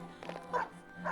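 Koromaru the dog barks in the Persona 3 FES video game, two short woofs heard close over a low steady hum.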